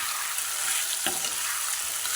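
Chicken masala with fried taro root sizzles in a pan while being stirred, a steady close frying hiss broken by a scraping stir stroke partway through.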